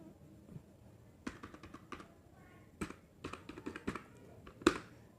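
Computer keyboard typing during HTML coding: scattered bursts of close key clicks with pauses between, ending on a sharper, louder keystroke like Enter, faint background murmur.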